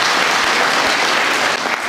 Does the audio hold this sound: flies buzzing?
no